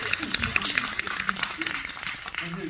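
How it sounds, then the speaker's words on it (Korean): Audience at a film screening talk with the director and actor claps in a scattered round, moderately loud, mixed with speech from people in the room. "여러분 박수 한번 부탁드립니다"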